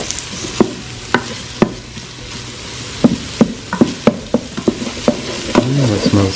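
Garlic and ginger paste sizzles in an Instant Pot under a soft, steady frying hiss, broken by sharp clacks as a spoon scrapes and stirs, with a louder bubbling sputter at the end.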